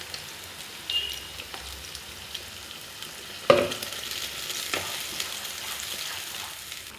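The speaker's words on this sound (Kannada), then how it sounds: "ಈಗ ರುಬ್ಕೊ ಬಂದಿರೋವಂಥದ್ದು ಹಾಕೋದು ಎಲ್ಲ ಪೇಸ್ಟ್" Ground masala paste hits browned onions in a pan for a mutton and fenugreek-leaf fry, giving a soft crackling sizzle with a sharp burst midway and a few clinks of a spoon, no speech.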